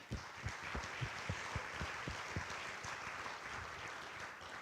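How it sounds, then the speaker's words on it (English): Audience applause at an innovation hub event, a steady wash of many hands clapping at a moderate distance, holding level for several seconds with no voices over it. "Let's give them another round of applause"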